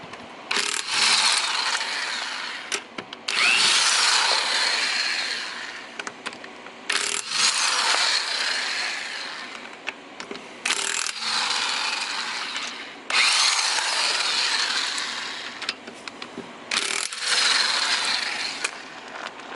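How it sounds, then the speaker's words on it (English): A cheap Mastercraft impact gun spins car wheel bolts loose in a series of loud, buzzing bursts of several seconds each, separated by short pauses, with no talking. "What I use is a pretty simple Mastercraft, cheapest gun you could buy."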